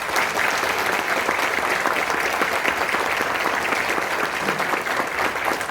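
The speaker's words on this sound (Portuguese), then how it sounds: "queria uma salva de palmas para ele." Sustained audience applause at the opening of an environment-week talk, a thick, even wash of many people clapping at steady loudness throughout, with no speech on top.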